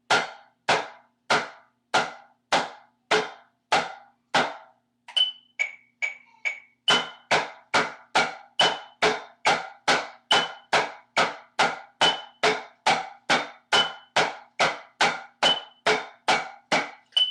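Tenor drum played slowly in a simple scrape pattern, with sharp, evenly spaced strikes close by. A brief softer passage of light taps comes near the start, then a long steady run of hits at about two per second, with no talking.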